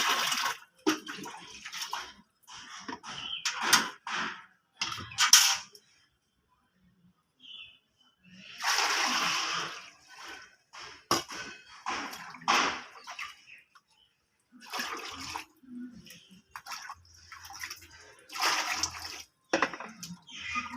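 Hot water is poured into a bucket and mixed in uneven splashing bursts separated by short pauses, heard close by.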